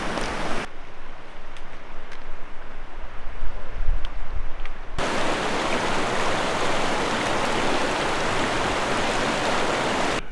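Creek water at Mosquito Creek Campground in Banff rushes steadily, a broadband wash that thins for a few seconds and then returns fuller and louder, holding constant to the end with no voices.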